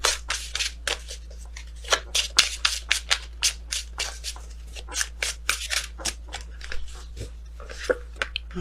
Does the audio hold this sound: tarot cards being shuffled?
yes